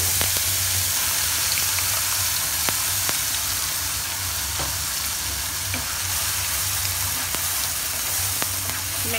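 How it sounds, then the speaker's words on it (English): Freshly ground masala sizzles and fries in hot oil, a dense, steady crackle with occasional sharp pops and stirring, close and continuous with no voices. "Now in the same oil, add the freshly ground masala."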